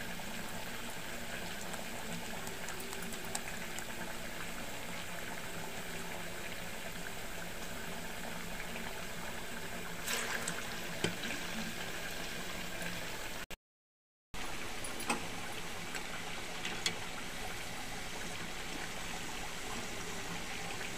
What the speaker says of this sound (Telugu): ఈ గోల్డ్ కలర్లో వచ్చేదాకా వేగించుకుంటే చూసారా చిట్టుగారు